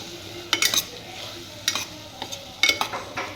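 Potatoes with turmeric, salt and chili stirred in a pan over a low sizzle, three clusters of bright metallic spoon scrapes spaced about a second apart, close and clear, no talking.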